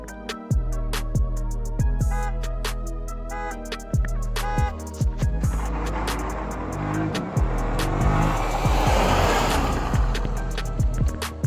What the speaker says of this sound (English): So here's one more launch right quick.